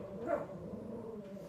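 A chihuahua barks indoors at moderate distance, one sharper yap near the start followed by continued lower yapping that persists through the clip with no talking.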